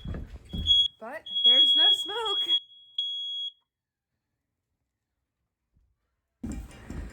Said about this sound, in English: Smoke alarms are going off.